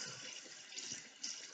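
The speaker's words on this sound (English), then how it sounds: "So then you turn your water on, rinsed off the soap" Water runs from a tap while soap is rinsed off hands, a soft, steady splashing hiss with no talking.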